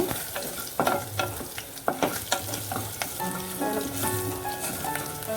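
Spicy chicken sizzles and crackles steadily in hot oil, with occasional stirring clatters and sharper pops, close and fairly loud throughout.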